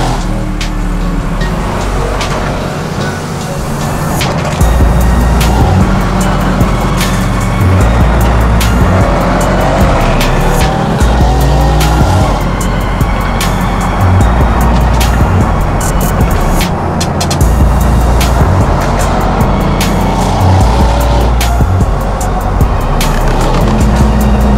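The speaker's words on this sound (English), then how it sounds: "My car sounds more like a 204 now, which I love." A tuned Mercedes-AMG C63's engine drones loudly and steadily from inside the car as it drives, with revs rising and falling and occasional clicks.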